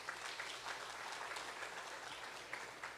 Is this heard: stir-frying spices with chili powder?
no